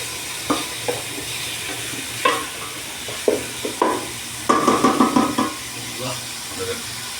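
Sliced onions soften in a pan for a Kerala sardine curry, giving a quiet sizzle broken by scraping stirs and a brief rattling clatter of the spoon against the pan.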